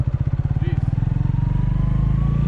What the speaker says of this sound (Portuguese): Agora vai soltando a embreagem e vai dando só um bocadinho de acelerador